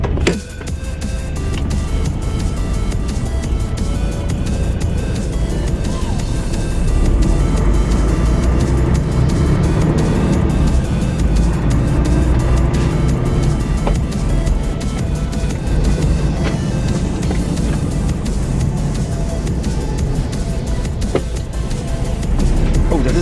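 A stuck lorry starts rolling again after roughly five hours in a traffic jam, a steady loud low engine drone with road rumble carrying on throughout, continuous and close.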